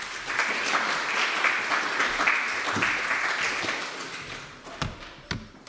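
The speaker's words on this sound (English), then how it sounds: "An applause, please." Conference audience applause for a speaker at a web development talk, a steady wash of clapping that thins out toward the end, leaving a few scattered claps and thumps.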